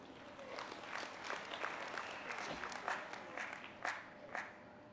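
An audience at a political conference applauds in a steady, moderate wash of clapping, with a few louder individual claps standing out near the end.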